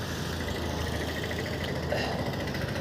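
A vehicle engine idles at close range, giving a steady low rumble with faint mechanical vibration. It runs evenly throughout, with no voices over it.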